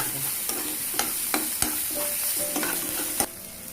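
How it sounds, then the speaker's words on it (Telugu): Ginger garlic paste fries in a pan while a spoon stirs it, giving a soft steady sizzle broken by sharp scraping taps about every half second. "అల్లం వెల్లుల్లి పేస్ట్ కూడా బాగా ఫ్రై అయిందండి"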